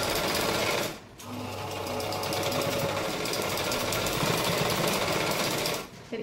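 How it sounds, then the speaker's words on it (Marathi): Electric sewing machine stitching a plain blouse, running in a steady loud whir for several seconds, briefly pausing, then running again before stopping near the end; no talk. "तर आता आपण शिलाई देऊन"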